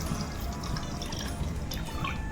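Water pours steadily into a pot set on a gas stove to boil an herbal leaf decoction for cold and cough, a continuous close splashing rush.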